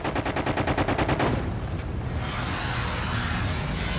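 Rapid automatic gunfire from the video game Call of Duty: Infinite Warfare: a fast, loud, evenly spaced burst of shots for just over a second, then a rushing, rumbling tail.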